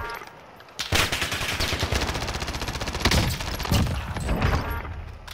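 Rapid automatic gunfire in the Call of Duty: Modern Warfare video game, with dense bursts of shots after a brief quieter opening, loud and close with short pauses between volleys.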